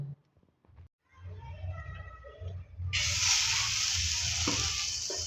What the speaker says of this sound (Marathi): आता आपण कांदा भाजून घेणार आहोत।